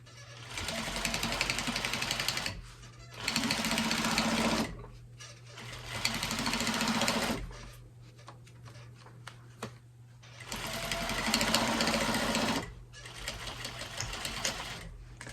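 A sewing machine stitches lines on a handmade gift in several long, loud runs of rapid mechanical chatter, separated by quieter pauses under a steady low hum.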